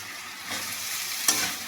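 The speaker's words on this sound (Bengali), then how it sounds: "লাউগুলো সব দিয়ে দিলাম, দিয়ে একটু নেড়ে নেবো।" Bottle gourd stir-fried in a pan with spices, a brief, close, steady sizzle with a soft stirring scrape and a small clink near the end.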